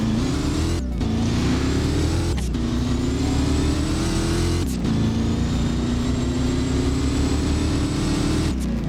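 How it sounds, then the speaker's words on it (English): A 2013 Ford Mustang Shelby GT500 in Roblox Driving Empire revs loudly and continuously, its engine note climbing in pitch with brief drops between gear shifts, close and alone. "the 2013 Ford Mustang Shelby GT500. So let me go ahead and start this one up for you guys so you guys can hear how it sounds."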